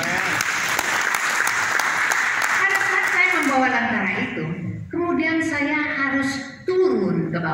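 Applause from a church congregation fills the room, with dense clapping running under a voice that keeps talking; the clapping thins out midway as speech carries on alone.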